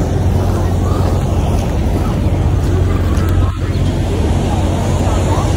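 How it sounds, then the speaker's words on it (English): Rain falling outside a car on a road trip, a steady dense patter and hiss heard from inside the cabin, continuous and fairly loud, with a quiet voice briefly. "It's rain, bro."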